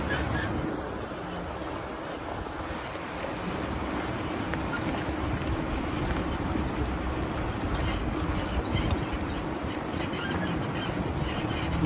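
A Ford Raptor truck climbs a steep stretch of the White Rim Trail near Moab, Utah, its engine and gears droning steadily and closely throughout, with wind noise.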